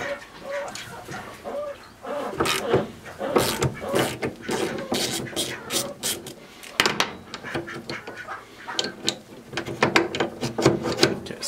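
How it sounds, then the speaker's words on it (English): A bolt is worked loose on the frame of a vintage desk, giving a busy stretch of ratcheting clicks, metal creaks and wooden knocks in irregular bursts that carry on for about ten seconds, close and fairly loud. "So I'm going to try and loosen this bolt."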